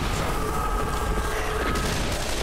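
Gunfire in the Left 4 Dead 2 video game, a dense burst of shots crackling steadily through the whole stretch amid loud game noise, with no clear pauses.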